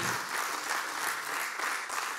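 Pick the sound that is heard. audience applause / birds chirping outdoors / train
audience applause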